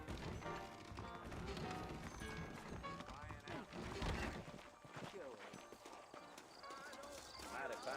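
Horses in the video game Red Dead Redemption clip-clop steadily along with an occasional neigh, under game music and character voices.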